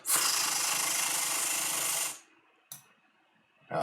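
A bill counter machine riffling through a stack of $100 bills, one loud continuous fluttering whir lasting about two seconds, then a quick click and the start of another burst.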